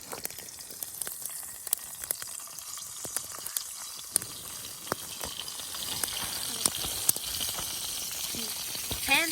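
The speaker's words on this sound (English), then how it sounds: "the pan on the fire, it's searing a little bit" Grayling fillets seasoned with salt searing in a pan over a campfire outdoors in cold weather, a steady close crackling sizzle with scattered pops throughout, loud and continuous.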